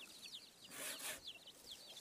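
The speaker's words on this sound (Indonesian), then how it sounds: "Jadi dengan cara digergaji dulu." A hand saw working through wood cut from a termite-damaged durian tree outdoors, giving fairly faint, rhythmic rasping strokes with a louder pass in the middle.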